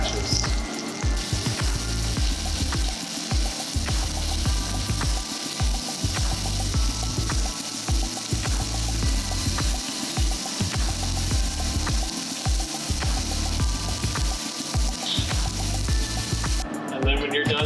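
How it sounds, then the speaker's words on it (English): Beef sears and browns in a pan with a loud, continuous sizzle, joined by occasional clicks and scraping from the cookware, close up with no one speaking. "when you're done searing the beef"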